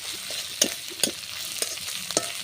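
Ginger-garlic paste and cumin paste fry with browned onions in a village kitchen pan. A spatula stirs in four or five sharp, evenly spaced strokes over a quiet, continuous sizzle, close and alone.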